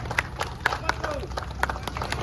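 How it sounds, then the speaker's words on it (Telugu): Scattered audience clapping at a Ganesh Chaturthi gathering for prize winners, a handful of sharp separate claps mixed with crowd chatter and voices in the background. "మళ్ళీ క్లాప్స్."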